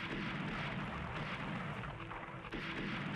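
Naval guns firing in the warship strategy game Rule The Waves, a dense, continuous rumble of distant gunfire and blasts with no distinct single shots standing out, steady and moderately loud throughout.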